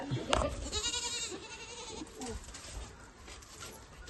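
A three-day-old goat kid bleats in a short, quavering, high cry up close, followed by a few softer squeaks and faint background rustling.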